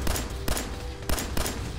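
Gunfire in the video game Fallout 4 with power armour, loud rapid shots in four sharp bursts over a dense, noisy background.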